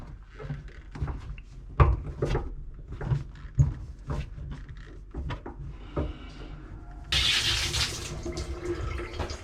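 Water gushes steadily from a tap after a series of clunks and knocks during a leaking-tap washer repair, the flow starting suddenly and continuing loud to the end.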